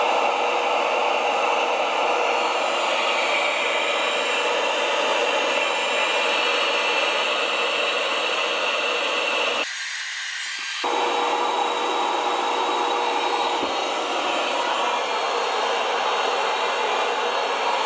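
DeWalt DCV501LN cordless vacuum cleaner running loud and close with a steady whining roar; about a second in, the airflow is blocked and the pitch shifts sharply before the normal drone returns.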